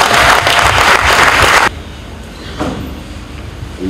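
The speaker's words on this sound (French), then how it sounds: "Applaudissez pour vous-même." Loud audience applause at an opposition political presentation in Kivu fills the first half, then cuts off sharply, leaving a quiet room with faint shuffling.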